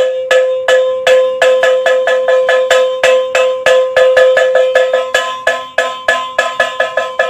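Handheld metal gongs beaten by women in a traditional musical performance, giving bright, ringing strikes in a quick, steady, repeated rhythm, loud and close with no voices.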